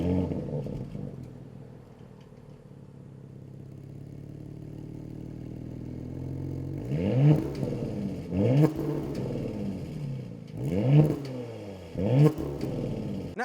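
A 2022 Porsche Panamera's 2.9-liter V6 engine and exhaust idle with a low rumble, then rev sharply four times in a row, each rise and fall loud and close.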